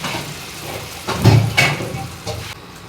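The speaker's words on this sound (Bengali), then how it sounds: "এবার একটুখানি এটাকে হাফ ফ্রাই করবো, বেশি না" Onions and green chilies half-fry in a hot pan with a loud, close, continuous sizzle, swelling as they are stirred, with the soft scrape of the stirring running through it.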